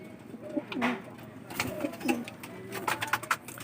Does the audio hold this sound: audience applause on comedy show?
no